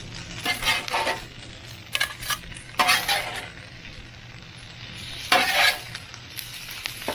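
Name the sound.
flipping egg in pan for chicken fried rice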